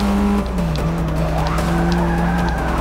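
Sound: car tires skidding and sliding, Forza Motorsport 6 video game

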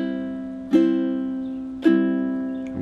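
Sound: ukulele triplet strum played slowly

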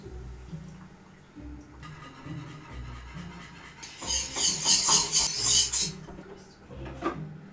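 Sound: whisking lemon soufflé mixture in a pan

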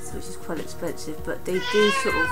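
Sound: cat meowing

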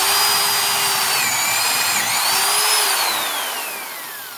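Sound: power drill boring wood with a forged spade bit

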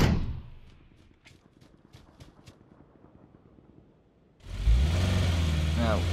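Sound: car driving away in the video game PUBG

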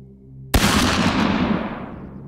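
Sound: shotgun being fired

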